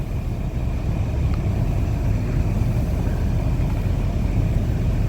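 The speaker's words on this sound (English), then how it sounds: "this is the first time anybody's driven the car in a month" A car being driven for the first time in a month hums with a steady low engine rumble and road noise from inside the cabin, continuous and fairly loud with no talk.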